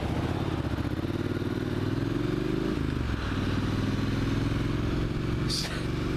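Motorcycle riding on a road while looking for fuel, with a steady engine drone and a shift in pitch midway, apparently a gear change, and a brief higher whine near the end.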